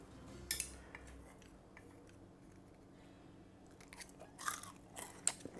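Crispy air-fried sesame chicken being bitten and chewed, a few sharp crunches near the start and a cluster of louder crunches toward the end, close and quiet with no talking.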